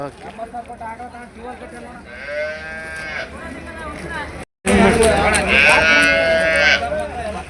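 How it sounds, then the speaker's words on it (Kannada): Buffaloes bellow and low repeatedly amid a busy livestock market in the rain in Ranebennur, Haveri, with people talking throughout and a brief silent break midway. "ಎಮ್ಮೆ ಪ್ಯಾಟಿ ಮಳೆಯಲ್ಲೇ ನಡೀತಾ ಇದೆ"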